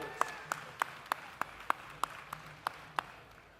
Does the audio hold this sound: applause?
yes